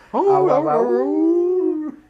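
A dog in the KFC dating simulator video game lets out a single close, drawn-out howl that whimpers at the start, then holds a long steady note before stopping abruptly.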